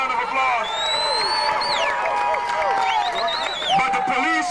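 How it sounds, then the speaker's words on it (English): A crowd of demonstrators at a Washington, D.C. rally for Amadou Diallo cheers and applauds, with many overlapping shouts and whoops over a bed of clapping and voices. "Give yourselves a round of applause."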